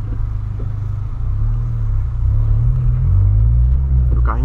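A Volkswagen Polo Sedan engine with a loud sport exhaust rumbles loudly and steadily with a deep, throaty tone that swells slightly as it revs, no voices.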